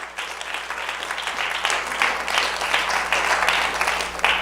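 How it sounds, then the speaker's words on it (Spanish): Congregation applauding in a church, a steady broad wash of many hands clapping held at an even level from start to finish, with a low constant hum underneath. "Fuerte el aplauso a la gloria de Dios."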